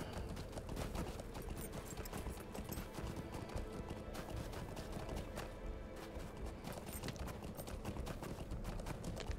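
Horse hooves gallop in the Lord of the Rings Online video game, a steady rapid clip-clop that runs continuously at moderate loudness with a faint whinny.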